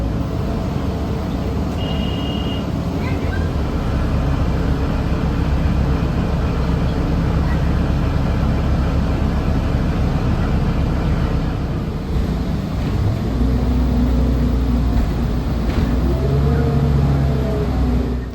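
A transit bus on Route 101 cruises between stops, a loud continuous engine and road rumble from inside the cabin with rising whine tones toward the end and a brief faint chime early on.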